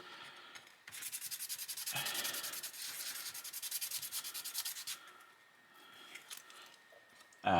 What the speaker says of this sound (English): I'm just going to use these just to quickly rough up all of the flat surfaces